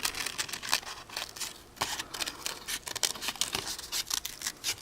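Scissors cut through construction paper with close, crisp snipping strokes in an irregular rhythm, one cut after another with short pauses and no talking.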